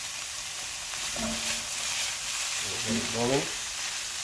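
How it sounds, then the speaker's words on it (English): Saltfish and cabbage sear in a non-stick pan, a steady close sizzle that runs throughout while someone speaks briefly twice over it. "You can hear it searing, you know? That's the sound you're looking for."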